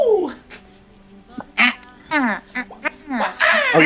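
Several people make squawky, quacking bird-call imitations with their voices, short bursts overlapping and building into a noisy, close chorus with speech-like voices throughout.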